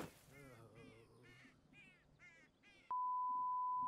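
A cartoon crow in RWBY Chibi caws about five times in a quick, evenly spaced series, followed by a sudden steady electronic beep that holds to the end.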